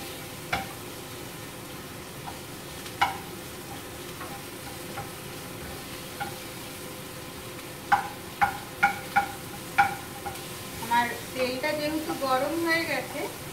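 Onions frying with salt and turmeric in a pan for Bengali mutton curry, a soft continuous sizzle broken by sharp stirring clacks, growing busier and louder toward the end.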